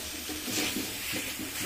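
Chicken pieces go into a frying spice masala for chicken paratha, giving a soft, continuous hiss with gentle swelling stirring sounds and no talk.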